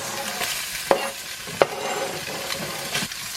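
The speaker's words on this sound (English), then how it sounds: "I'm going to add my Spam and I'm just going to fry this on all sides" Pieces of Spam fry in a pan on low-medium heat, a continuous close sizzle broken by a few scraping stirs and two sharp utensil knocks, with no voices.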